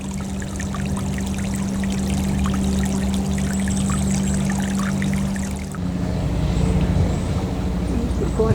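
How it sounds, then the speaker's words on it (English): Soft trickling water in a Cotswolds garden, a steady, gentle wash of flow that runs continuously with a low hum beneath it and shifts slightly in tone partway through. "you can just hear the soft sound of trickling water"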